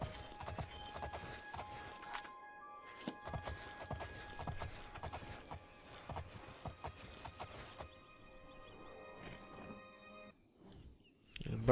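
Horse hooves clip-clopping in the video game The Elder Scrolls IV: Oblivion, a steady, close rhythmic patter of hoofbeats that keeps going under a continuous musical backdrop.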